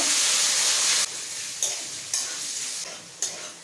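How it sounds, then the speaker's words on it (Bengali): Vegetables frying in hot oil in a wok for egg chowmein give a steady loud sizzle, broken by several bursts as they are stirred and tossed. "কড়াইয়ের মধ্যে তেলের মধ্যে সবজিগুলো দিয়ে দিয়েছি। সবজিটা এখন ভেজে নেব।"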